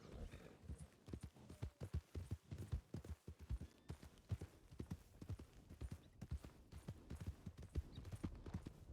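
Video game horse hooves clip-clop in a quick, even trot, close and clear, with a faint whinny-like background and no speech.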